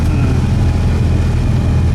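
A classic Panhard PL17 car engine idles smoothly and steadily, close and fairly loud, with an even low rumble and no other sounds.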